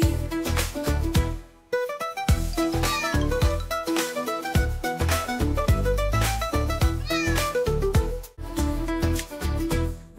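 A cat meows in drawn-out, gliding calls over a loud, bouncy children's rhyme with steady beat and melody; the meows sit within the music rather than standing alone.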